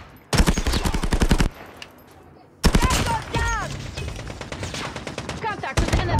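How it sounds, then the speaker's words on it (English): A sentry gun in Call of Duty Mobile fires loud, rapid automatic bursts: one long burst, a short pause, then a sustained stretch of fire mixed with other game effects, and a final short burst. "Good, my sentry gun will get it."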